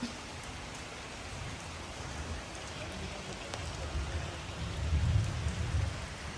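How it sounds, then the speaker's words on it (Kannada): Steady rain hisses down across the whole clip, with a low rumble swelling near the end. "ಇಷ್ಟೊಂದು ಮಳೆ ನಮ್ಮೂರಲ್ಲಿ ಇವತ್ತು."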